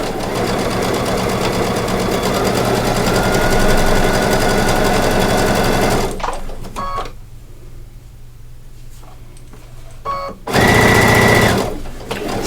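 Sewing machine stitching fabric for a leather leaf pillow, a steady loud close whir for several seconds, stopping briefly, then a short final burst of stitching.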